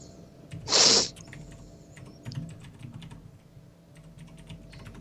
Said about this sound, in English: Apologize for the loud keyboard.